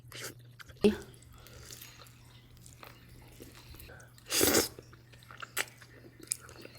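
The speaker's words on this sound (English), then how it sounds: "First, eat some brownies." Close-up chewing of dry brownies, with soft crunches and moist mouth sounds, one loud crinkly burst midway and scattered clicks, all quiet and intimate against a faint steady hum.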